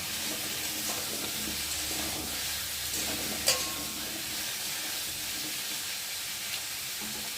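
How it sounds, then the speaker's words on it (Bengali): Potatoes and onions fry in a pan, a steady close sizzle and hiss running throughout, with occasional soft stirring scrapes and one brief clink partway through, no voices. "আলুটা একটু লাল লাল করে ভেজে নেবো।"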